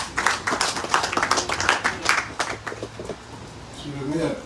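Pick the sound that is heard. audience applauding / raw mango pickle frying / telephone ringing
audience applauding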